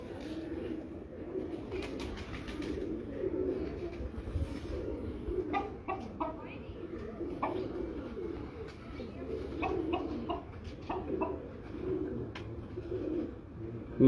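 Ferozpuri pigeons coo steadily in a rooftop loft, soft low murmuring calls repeating throughout, with occasional sharper clucks and brief clicks over a constant background hum.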